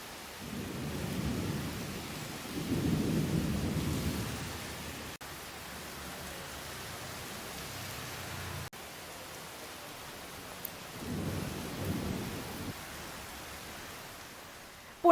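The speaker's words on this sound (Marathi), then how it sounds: "काही तासच सलग पाऊस पडत होता" Steady monsoon rain pours down over Pune, with low rolling thunder rumbling in several long swells between quieter stretches of continuous rainfall.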